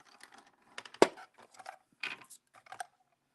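Die cutting machine pressing small dies through Yupo synthetic paper, giving a series of sharp clicks and cracks with one loud snap near the middle, close and otherwise quiet.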